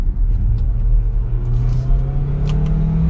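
2022 Kia Sorento SX Prestige AWD hybrid revs up loud and close after a paddle-shift downshift into second gear, its engine note climbing steadily in pitch as it accelerates, with no talking.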